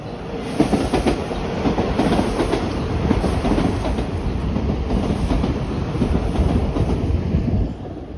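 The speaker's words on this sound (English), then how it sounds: "And the subway's coming. I can hear it, and it's gonna come out from right here." A subway train rumbles in on its rails near a park path, a dense, loud clickety-clack of wheels that builds and holds steady as the cars pass close by, with no voices over it.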